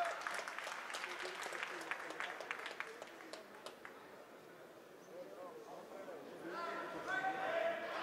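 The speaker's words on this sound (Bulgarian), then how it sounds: "Еми, оживиха публиката, както се казва." A crowd at a Profight combat event applauds and cheers faintly in the background during a lively third round, the clapping patter loosening and rising again toward the end, with commentary voices beneath.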